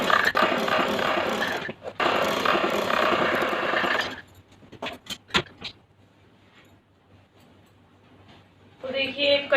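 A sewing machine runs a long straight seam on a heavy patiala salwar, a steady close mechanical whir for about four seconds, then stops, followed by a few sharp clicks and handling noises.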